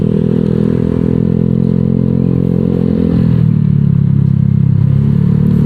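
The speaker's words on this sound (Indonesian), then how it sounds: "Knalpotnya mungkin lebih ngebas ya dibanding Neo Tribolt." A Honda Vario 125 scooter fitted with a Nob1 Neo 3 Bold aftermarket exhaust and KTC throttle rides over a rough, damaged road. Its loud, deep, bassy engine drone runs continuously and shifts pitch about halfway through, with some rattling underneath.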